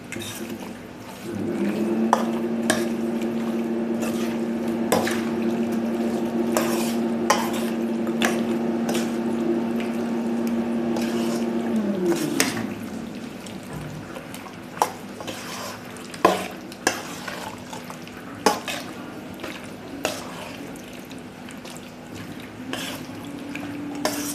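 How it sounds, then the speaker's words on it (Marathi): A spoon stirs yogurt marinade into chicken for biryani in a pot, giving soft squishing scrapes with a steady hum and, later, sharp clinks of utensil on the vessel. "आता आपण हे सगळं एकत्र करून घ्यायचं आहे।"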